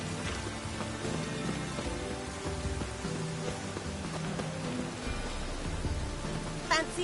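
Steady rain falls across the Witcher 3 game world, a continuous hiss of drops with faint background voices and music-like tones mixed in throughout.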